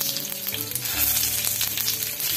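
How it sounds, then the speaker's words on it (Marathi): Bitter gourd pieces fry in oil with tempered mustard seeds and cumin, giving a loud, steady close sizzle with crackles, with no voices. "आणि ही कारली"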